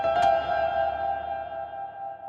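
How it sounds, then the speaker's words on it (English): A sustained synth-like piano tone hangs under a very long reverb in a trance production session, an initial attack ringing out into a steady, slowly fading wash with no talking. "That's basically the longest reverb we can get."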